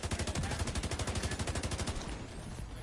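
Rapid shotgun fire in The Division 2 during the Iron Horse raid, a dense burst of repeated blasts roughly every tenth of a second for two seconds, loud and close, then fading into ambient game noise.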